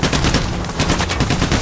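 Rapid, dense gunfire fills the moment in the shooting game Payday: The Heist, a continuous loud burst of overlapping shots with no talking.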